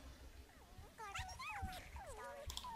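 A small dog in The Sims 2 whimpers and yips in short rising and falling cries, with game sounds and quiet talk underneath.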